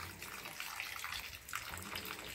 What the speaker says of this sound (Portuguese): Olha, a água tá descendo.